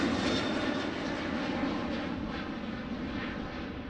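An aircraft at Amsterdam Airport roars along the runway, its engines a loud, continuous, broadband rumble and whine that stays near and steady throughout, with no talk.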